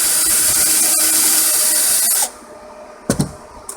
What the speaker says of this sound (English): One-handed drilling.